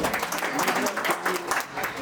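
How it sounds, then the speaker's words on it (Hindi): Listeners at a Hindi ghazal poetry recital break into brief, dense applause, a short burst of many hands clapping close by. "स्वागत है, तालियां बजा रही है, माहौल दे।"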